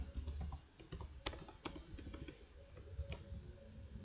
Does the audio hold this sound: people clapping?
no